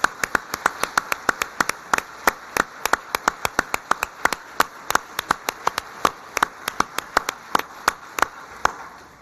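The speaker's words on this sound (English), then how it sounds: "Let's have another round of applause for all of our awardees." Scattered applause for awardees at a Department of Homeland Security awards ceremony, a steady run of sharp individual claps from a modest crowd that tapers off toward the end.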